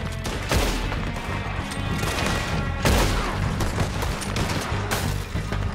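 Heavy gunfire in Red Dead Redemption 2 on PS5: dense overlapping shots and booming blasts in a continuous firefight, loud and close, with sharp peaks as bursts land.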